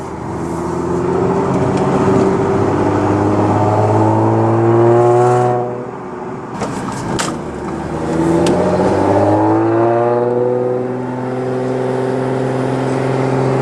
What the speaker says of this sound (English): You can definitely hear the supercharger a lot more.